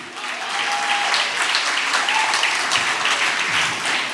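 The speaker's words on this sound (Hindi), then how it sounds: "जोरदार तालियों से इस्तकबाल कीजिए साहब" Audience applause welcoming the poet Mahshar Afridi at a poetry recital, a dense, steady wash of many hands clapping that holds strong throughout, with faint voices underneath.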